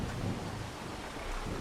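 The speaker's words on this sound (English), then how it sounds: "I mean, it is still raining" Steady rain pours throughout in Farming Simulator 25, with a low, soft rumble of distant thunder near the start.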